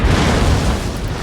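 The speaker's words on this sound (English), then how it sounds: "his cannon are also now firing on this building that I've established" Cannon fire in the Napoleon: Total War battle game, a loud, dense booming blast with rumbling low end that sustains without a break.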